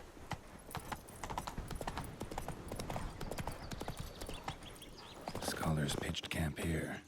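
Roach, Geralt's horse in The Witcher 3: Blood and Wine, clip-clops at a steady walking rhythm, close and clear, while a voice speaks over the hooves.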